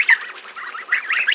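A flock of about 21 young geese in a village yard gives a run of high, chattering calls close by, rising and falling in quick bursts with no talking.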